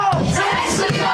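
Protesters shouting and yelling outside a locked-door university academic council meeting in Batumi, a dense, continuous crowd roar with rising cries throughout.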